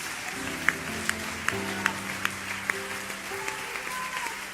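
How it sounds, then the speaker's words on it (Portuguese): A church congregation applauds during a sermon, steady clapping filling the room with sharper individual claps standing out, while a low sustained organ or keyboard chord plays underneath. "Vamos aplaudir aquele que é o único digno de honra, glória e louvor."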